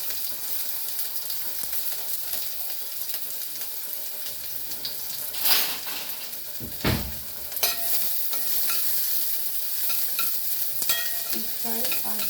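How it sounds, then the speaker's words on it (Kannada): Finely chopped onion frying in oil for a Malenadu-style rajma dal curry gives a steady, close sizzle, with a few louder stirring knocks and splashes midway. "ಇನ್ನು ಅರ್ಧ ಈರುಳ್ಳಿನ ಸಣ್ಣದಾಗಿ ಕಟ್ ಮಾಡ್ಕೊಂಡಿದ್ದೀನಿ. ಅದನ್ನು ಈ ಎಣ್ಣೆಗೆ ಹಾಕಿ ಫ್ರೈ ಮಾಡ್ಕೊಳ್ಳೋಣ."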